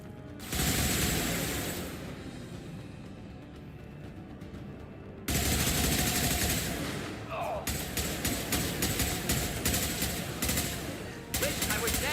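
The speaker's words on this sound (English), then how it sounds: "Firing an impact shot." Repeated bursts of impact shot gunfire from Mass Effect 2, loud and dense, sharp percussive cracks clustering across the span, with a brief sudden cutoff midway and a game voice over the din.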